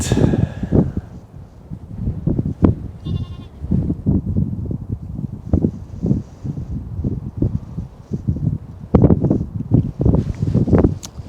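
A sheep and a lamb during lambing season bleat in short, close calls amid rustling and handling noises, with a few clearer bleats standing out.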